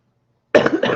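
A single close, loud cough bursting out suddenly after silence, with a rough, throaty double push.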